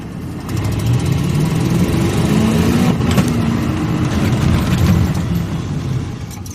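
A truck engine rumbles and revs close by during a one-wheel peel attempt on a ranch, holding a low throaty drone with a few rising pushes of throttle.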